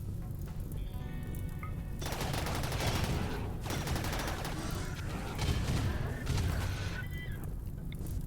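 Mortar salvo launched onto centipedes in the RimWorld video game: a continuous clatter of overlapping booms and impacts layered over a low rumble for several seconds, with a brief speaking voice underneath.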